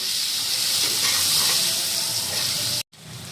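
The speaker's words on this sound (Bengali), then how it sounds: "আর এখন আলুটা ভালো মতো মশলার সাথে ভেজে নেব" Potato pieces fry in oil with spice paste, giving a steady, loud close-up sizzle and hiss that runs unbroken before a brief cut to silence near the end.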